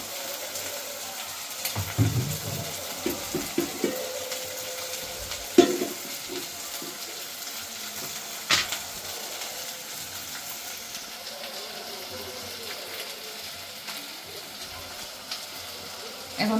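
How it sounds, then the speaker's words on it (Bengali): Oil heats in a wok on a home stove in preparation for frying boal fish, giving a soft, continuous sizzle and hiss with occasional sharper crackles and clinks, fairly close, with a voice talking at times. "এই পাশে মাছ ভাজার জন্য যে কড়াইটা দিছি, এখন তেল দিয়ে দিলাম পরিমাণ মতো।"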